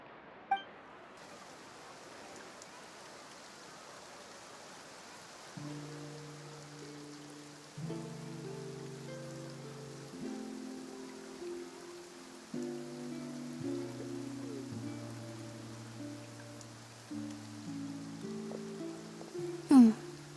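Steady rain patters in a Genshin Impact game scene in Fontaine, a soft continuous wash of drops under layered, sustained musical tones, with a bright clink near the end.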